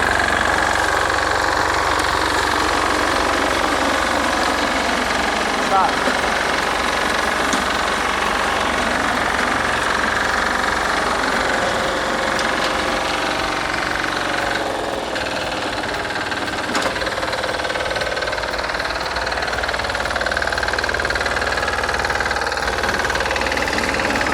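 An old Japanese-market Yanmar YTA600s diesel tiller runs steadily on a pre-delivery test, a loud continuous knocking diesel chug with a constant idle-like rhythm throughout and no talking.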